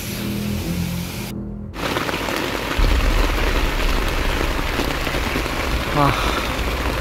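Heavy rain falls at night on a campsite in a wooded area, a dense continuous wash of drops striking the tent and flysheet, steady and close, with a brief silent gap early on and a low rumble underneath.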